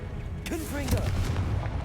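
A Confringo spell blast in Hogwarts Legacy lands as a booming, reverberant hit over a low rumbling bed, with a short warbling voice-like sound near the start and continuous loud game noise throughout.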